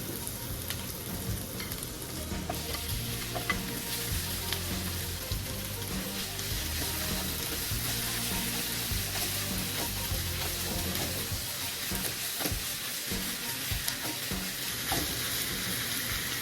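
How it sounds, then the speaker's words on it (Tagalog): Beef sears in a hot pan for broccoli beef, a steady dense sizzle and crackle with occasional stirring scrapes, close and continuous without speech. "Hintayin lang natin ma-sear tong ating beef bago natin sunod yung ibang sangkap."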